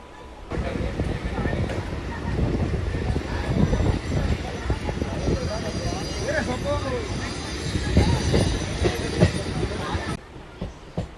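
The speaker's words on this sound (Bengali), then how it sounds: "কথা বলতে বলতে ট্রেনটা ছেড়ে দিল" An EMU local train between Barddhaman and Katwa in West Bengal rumbles steadily from inside the carriage, with rattling wheels, clickety-clack and faint squeals, while passengers' voices are heard throughout.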